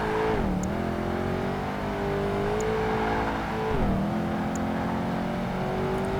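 Muscle car engine in the racing game Project Gotham Racing 2 revving hard through a drift, a loud continuous drone that dips in pitch twice as the throttle shifts, then climbs again, with a faint whine on top.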